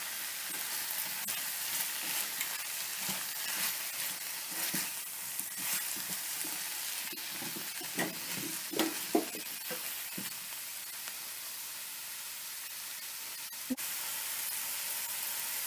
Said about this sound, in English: give all this a good mix and let the mushroom cook